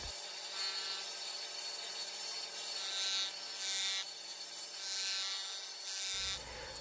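A carved wooden Opala car model is sanded by hand while its roof and hoods are shaped, giving a steady close rasping scrape with long rhythmic strokes that swell and fade before stopping abruptly.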